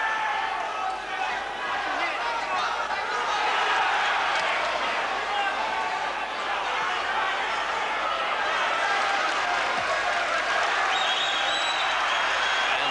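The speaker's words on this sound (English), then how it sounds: "Crowd there really being stirred by this comeback" A large boxing crowd roars and cheers steadily throughout a title bout, with a commentator's voice talking over the noise.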